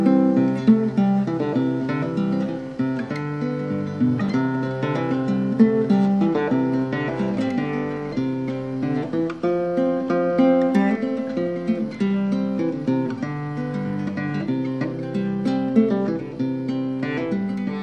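Acoustic guitar playing the tune Oh Susannah in first position near the nut, steady strummed chords and melody notes at an even tempo throughout, close and clear with no talk.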